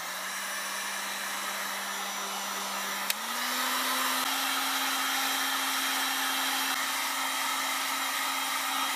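A hot-air heat gun or hair dryer blows steadily on the relays of a 2009 Mitsubishi Outlander to dry out moisture. It is a continuous close whir whose pitch steps up slightly about a third of the way in, with no talking.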